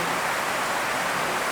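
Heavy rain pours in a dense, steady hiss that fills the whole moment, loud and close, with no gaps or voices.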